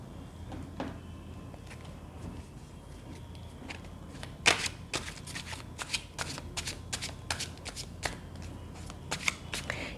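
Tarot cards shuffled by hand at close range, a sequence of crisp riffling bursts and light card snaps in an irregular rhythm, with a louder flurry partway through and no talking.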